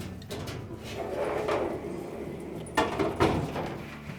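A Whirlpool dryer drum is shifted and pushed into place during a rear drum support roller repair, producing a couple of sharp metallic clunks and scrapes near the end, close and fairly loud.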